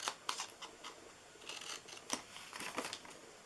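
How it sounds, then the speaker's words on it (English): Scissors snip paper for a St. Patrick's Day flip top box, a run of short, faint cuts and crisp rustles at an uneven pace, close by with no talk. "And then I'm going to cut in here."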